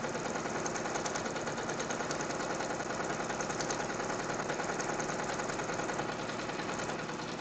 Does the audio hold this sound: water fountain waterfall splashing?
no